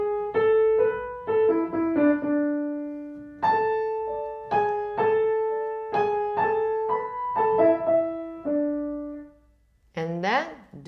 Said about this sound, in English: we should play only melody of the piano part and then together violin and piano part.